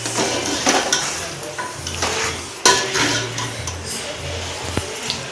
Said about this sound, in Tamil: சிக்கனை போட்டு அதையும் நல்லா கிண்டி விட்டுருவோம்.